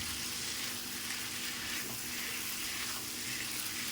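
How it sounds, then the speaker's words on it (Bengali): Fried potol (pointed gourd) and potatoes being stirred into spiced oil for a vegetarian aloo potoler rasa, giving a soft, continuous sizzle with faint scraping, fairly quiet and steady throughout. "আমি ভেজে রাখা পটল আর আলুগুলো দিয়ে দেবো। মশলার সাথে ভালো করে মিশিয়ে নেব।"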